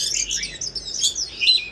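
Oriental magpie-robin sings in bright, varied chirps and whistled phrases, close and fairly loud, flowing continuously without pause.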